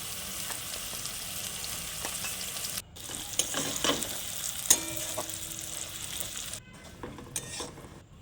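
Potatoes fry in a pan at home, giving a continuous sizzle with scraping stirs and utensil clicks. The sizzle stops briefly partway through, then returns more quietly.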